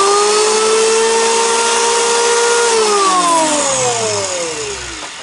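A homemade benchtop planer motor whines loudly at a steady high pitch, then its tone slides downward as it spins down and fades near the end; no talking.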